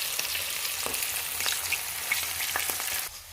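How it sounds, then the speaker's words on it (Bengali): Eggplant slices fry in oil left over from cooking hilsa fish, making a loud, continuous close-range sizzle with a few soft stirring clicks before it briefly drops near the end. "এ তেলের মধ্যেই বেগুন ভাজা যাবে"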